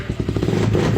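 A motorcycle fitted with a power pipe exhaust revving close by, a brief loud, rough throbbing burst with rapid pulsing beats that swell and hold.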